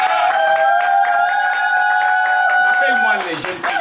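Guests at a customary wedding clap and cheer loudly, with rapid hand claps beneath a high, sustained vocal cheer that bends down and fades at the end.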